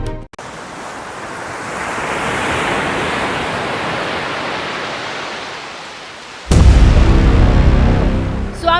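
Sea waves at the Vivekananda Rock Memorial in Kanyakumari, a broad roaring wash of surf swelling and fading, then a sudden louder, closer burst of wind-buffeted water noise near the end.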